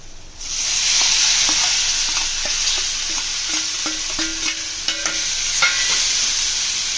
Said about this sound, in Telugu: టమాటాలను యాడ్ చేసుకొని బాగా ఆయిల్లో కలుపుకోవాలి.